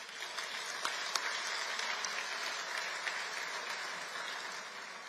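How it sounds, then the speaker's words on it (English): Steady audience applause fills a dinner hall at a disability advocacy awards event, a dense wash of clapping with a few sharper claps standing out, continuous and fairly even throughout. "I think we owe them a round of applause"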